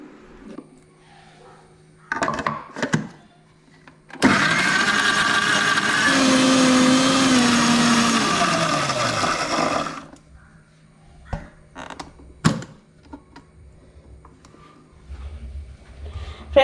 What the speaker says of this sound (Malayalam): ഇനി ഇതിന് കുറച്ച് വെള്ളം ഒഴിച്ച് നമുക്ക് മിക്സിയിൽ നന്നായിട്ടൊന്ന് അരച്ചെടുക്കാം